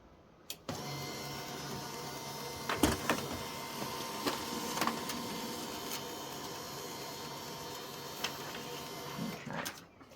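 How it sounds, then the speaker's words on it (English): A laser printer runs through a full-page photo print, a steady mechanical whir lasting several seconds, opened and closed by sharp clicks and punctuated by a few clunks, close and alone. "I'm going to print it from my laser printer."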